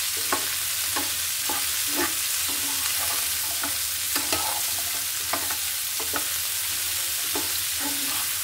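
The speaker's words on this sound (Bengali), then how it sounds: "এখন আমি ভাজিটা এভাবে পাল্টে দিয়ে ঢেকে দিব।" Cauliflower bhaji sizzling steadily in a pan, with repeated scraping clicks and stirring taps as the pieces are turned over and flipped, fairly close and continuous with no voices.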